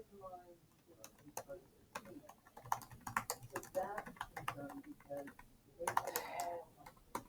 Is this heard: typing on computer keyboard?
yes